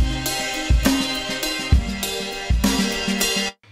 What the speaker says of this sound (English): So that's our drum loop.